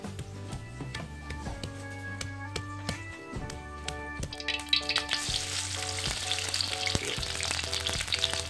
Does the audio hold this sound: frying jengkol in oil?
yes